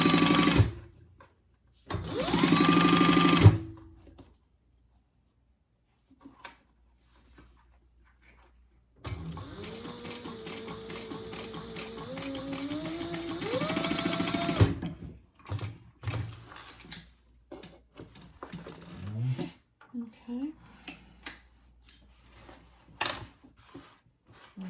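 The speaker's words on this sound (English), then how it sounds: "This is just the basting stitch" A sewing machine runs a basting stitch on a laptop bag in two bursts, one short and one about six seconds long, its motor pitch rising as it speeds up, with rustling and handling sounds afterward.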